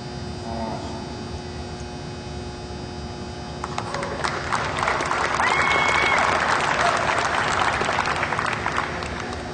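An audience at an All-American Red and White Holstein dairy cattle show claps. The applause starts light, swells into a fuller round of clapping halfway through and continues over a steady electrical hum.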